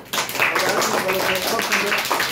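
A group in a spoken English class claps loudly for a student, with dense, steady applause filling nearly the whole moment after a brief quiet start.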